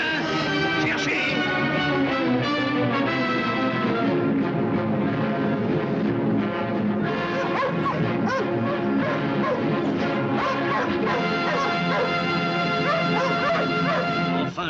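Several dogs bark and yip repeatedly in a 1950s French film scene, steady barking and whimpering layered over orchestral music, close and loud throughout.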